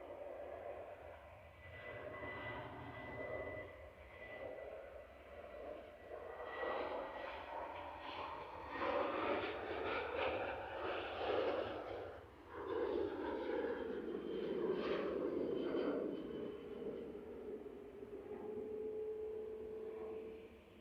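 A Jet2 Boeing 737-800 departs Manchester Airport, its jet engines a loud, broad roar that swells and stays strong for about twenty seconds as the airliner passes close by.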